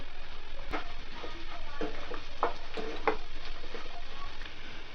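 Cashew pieces, dried chili and salt stirred in a frying pan for poha upma, a steady sizzle with repeated scraping strokes of a spoon, close and fairly loud throughout.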